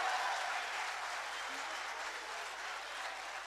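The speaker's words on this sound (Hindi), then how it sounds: "तालियां बजाइए" Audience at a mushaira of Urdu poetry bursting into applause, dense continuous clapping from a crowd that starts strong and slowly tapers off, with no speech over it.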